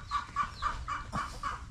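Chickens on a farm cluck in a steady, evenly spaced series of about six sharp calls, close and moderately loud, with no other sounds.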